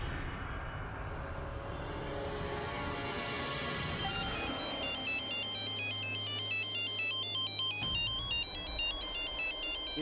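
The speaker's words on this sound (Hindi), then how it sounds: "इतनी रात को अननोन नंबर से कौन फोन कर रहा है?" A phone ringtone signals a late-night incoming call from an unknown number, a loud, bright, repeating electronic melody that rings continuously with no talk over it.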